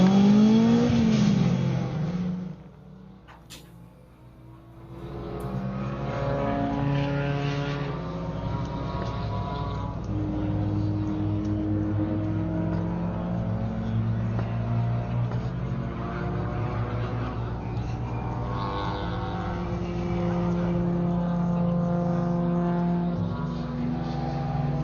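Race cars accelerating hard around the Buttonwillow circuit during a time-attack session, a continuous loud engine roar with rising and falling revs as cars pass and shift, alone without talk.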